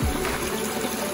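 Water gushes steadily through the overflow drain of a backyard catfish pond, a close, continuous rushing flow with a brief low splash at the start.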